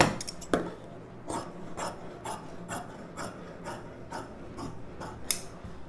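Scissors snip through blouse fabric while bias piping strips are cut, a series of crisp, fairly evenly spaced cuts repeating close by at a steady tailoring pace.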